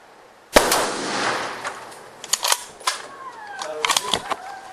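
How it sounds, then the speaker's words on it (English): A police officer's gunshot cracks out loud and close on a bodycam, one sharp blast followed by scattered clatter and smaller impacts as the scene erupts, with voices shouting in the background. "I'm gonna take the shot."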